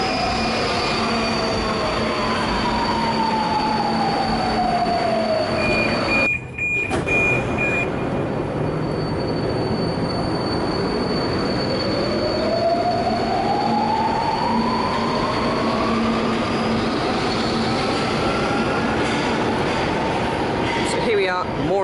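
A Budapest Metro Line 4 train runs through a tunnel with a loud continuous rumble and pitch sweeps of the motors as it slows and speeds up, a brief squeal and a chime, all fairly near.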